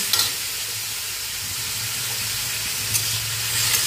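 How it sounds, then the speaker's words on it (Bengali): Salad vegetables with salt stir-fry in a hot pan, a steady close sizzling hiss with brief scraping bursts from stirring at the start and near the end. "সবজির মধ্যে দেব লবণ। এটা হেলদি, একদম বলতে হেলদি ব্রেকফাস্ট হবে। লবণ দিয়ে নাড়াচাড়া করে নিচ্ছি।"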